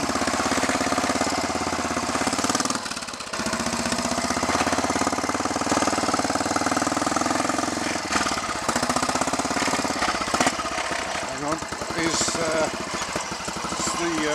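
Royal Enfield Bullet 350 trials motorcycle in first gear, its single-cylinder engine running steadily and close by at a low, slow pace, with speech over the top.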